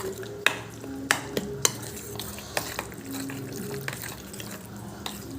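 Tempering sizzles in a pan for Telugu ridge gourd chutney, with a steady frying hiss broken by several sharp clinks of stirring, close and moderately loud.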